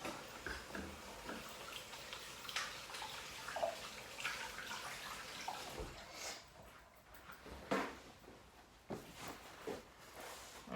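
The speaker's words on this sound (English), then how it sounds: "So let's wash our hands." Tap water runs faintly and steadily while hands are washed, broken by soft splashes and a few brief clatters, with no clear talk.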